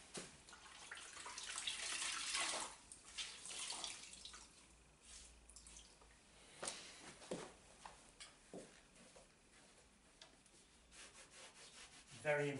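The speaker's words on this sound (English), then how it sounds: "wipe off the paste on the top with a nice clean cloth" Clean cloth rubbed over freshly hung wallpaper behind a radiator to wipe away paste, giving soft, close swishing strokes in irregular bursts with a few light taps, no talking.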